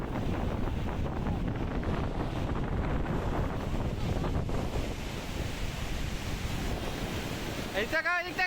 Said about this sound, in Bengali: নেমে গেল সাগরের ঢেউ উপভোগ করতে